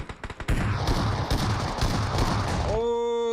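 Rapid, dense gunfire in PUBG Mobile during a competitive esports match, with an S12 shotgun among the weapons in play, a loud continuous fusillade of overlapping shots that drops away into a ringing musical tone.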